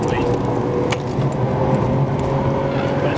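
Steady, loud engine and road noise from a car driven fast around the Millbrook handling circuit, holding a constant drone with a few brief bumps, while someone talks over it.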